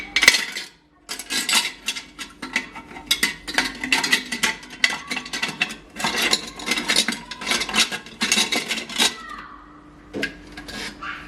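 Metal ice cream scoops clink, scrape and rattle against one another and a shelf as they are sorted in a small pantry, a busy run of close clatters with brief pauses and no talking.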